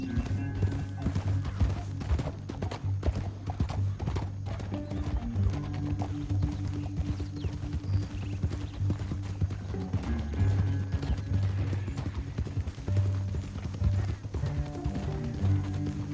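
Horse hooves clip-clop steadily through a Western radio drama, an even trotting rhythm running the whole stretch beneath a bed of music, with an occasional whinny.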